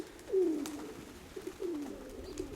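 A kept pigeon gives two low, drawn-out coos a second apart, fairly close and alone against a quiet background.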